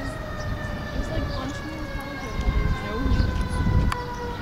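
A fire truck siren wails at a distance in a park, a faint steady tone under low rumbling background noise and light voices nearby.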